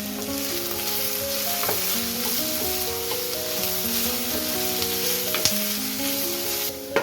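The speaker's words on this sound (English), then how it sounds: "Once the onions are softened, it's time to add the mushrooms. I just like to let them cook through for a couple of minutes." Onions and mushrooms sizzle steadily in a frying pan, a continuous close hiss of frying with no talk, underlaid by faint tonal background hum and a couple of brief clinks.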